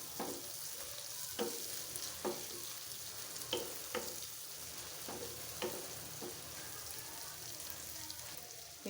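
Mixed dried fish with cumin paste sautéing in a pan, a steady sizzle with repeated sharp scrapes of stirring spaced every second or so, and no talk.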